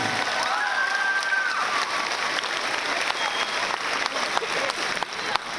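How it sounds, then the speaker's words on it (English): A graduation crowd at Roosevelt High School applauds the class of 2025 valedictorian, a sustained roar of many clapping hands with faint cheering, steady throughout. "Can we clap one more time for our valedictorian?"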